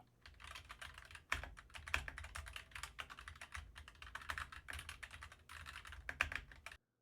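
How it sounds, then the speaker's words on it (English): Mechanical keyboard typing picked up from behind a USB microphone, a steady run of clicky keystrokes with a few louder hits, fairly close and clear, no voices, ending abruptly. "And here's the pickup of that mechanical keyboard placed behind the mic."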